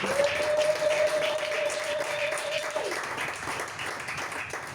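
A church congregation applauding the word of God: broad, sustained clapping filling the room, with a held sung or called note over it at first and voices mixed in.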